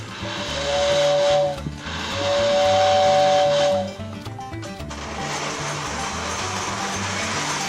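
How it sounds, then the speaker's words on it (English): A Lionel model train steam whistle run off a ZW transformer, two long hissing, breathy toots with a steady tone and a pause between them, then a lingering mechanical hiss. "I'm pushing the whistle button. You can barely hear the whistle."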